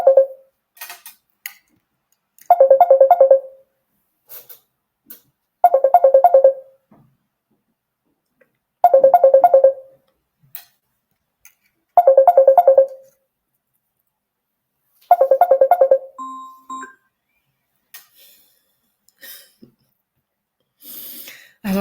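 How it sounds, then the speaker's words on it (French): Mobile phone ringtone going off during a talk on plant-based skin care: a short tonal chiming pattern repeats about every three seconds, five times, loud against near silence. "j'ai oublié de couper mon téléphone"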